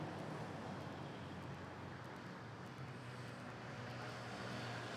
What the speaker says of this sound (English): we have Philippine Airlines A320 arriving from Dumaguete